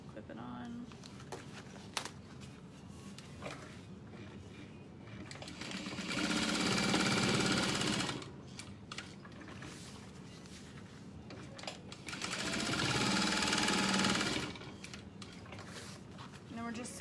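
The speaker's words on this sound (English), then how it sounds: "we're just sewing in a U shape and leaving the bottom open" A sewing machine stitches lining pieces in a U shape in two close, loud bursts of rapid whirring, separated by quieter pauses where a person talks.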